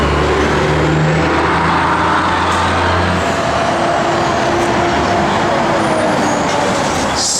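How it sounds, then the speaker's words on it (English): A 1970 Chevrolet Nova SS with a 396 engine runs with a steady, loud, low rumble that holds throughout, plus some passing road noise in the background. "you fire this thing up, I mean, it has got a good sounding 396 underneath the hood"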